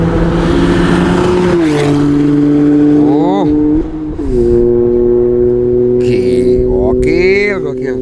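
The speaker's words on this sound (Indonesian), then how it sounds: "Suara mobilnya kedengeran." A Toyota GR Yaris races past on the Mandalika circuit, its engine note rising and falling with revs as it approaches and speeds by, loud and close, with people talking over it.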